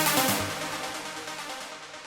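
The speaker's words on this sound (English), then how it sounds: "So just before bar 32, there is this riff" Synth riff from a trance track, a dense, bright, noisy sustained sound with a brief rhythmic pulse at the start before it smears into a continuous wash, fairly loud and alone.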